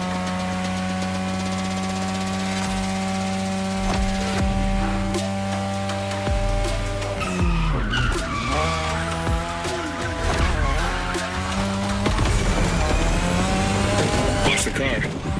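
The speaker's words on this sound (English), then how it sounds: "Tonight your ride is a 3rd Gen 2002 Mazda RX-7. Lightweight, compact, a sick rotary engine" A third-generation 2002 Mazda RX-7 with a rotary engine races in The Crew Motorfest, its engine droning steadily with shifting revs and tyre squeals throughout, loud and continuous.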